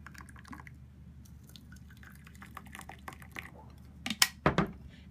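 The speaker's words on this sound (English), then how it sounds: "I'll pour in some warm water because the blood flowing in our body is warm." Warm water poured into a container makes a few short, close splashing gurgles near the end, after a long stretch of quiet room tone with faint scattered clicks.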